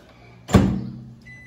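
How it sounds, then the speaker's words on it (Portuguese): A microwave oven set to cook pierced potatoes for ten minutes gives a single loud thud as its door shuts, then a short, faint electronic beep follows alone. "10 minutos no micro-ondas"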